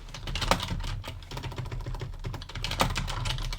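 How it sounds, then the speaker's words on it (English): Someone types on a computer keyboard with long nails, producing a steady run of close clicking keystrokes with a couple of sharper key hits and no speech. "My nails are long and it's like fudge up my typing a lot."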